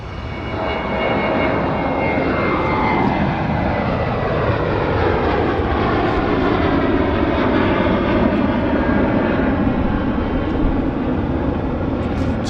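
A United Airlines jet departs Vancouver Airport bound for Denver, its engines a loud sustained roar with a sweeping, shifting tone as it passes and climbs, steady throughout with no talking.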